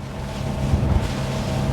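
An iron speedboat runs fast across the water, its engine a steady low drone beneath a constant rush of hull spray and wind buffeting the microphone, with no voices.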